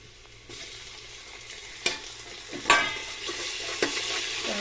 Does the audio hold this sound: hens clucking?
no